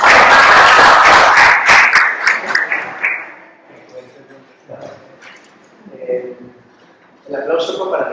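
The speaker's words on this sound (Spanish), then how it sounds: "El aplauso fue para Miguel, ¿verdad?" Applause from a symposium audience for a guest named Miguel, a dense burst of clapping for about three seconds that thins out, followed by quieter murmuring and talk in the room.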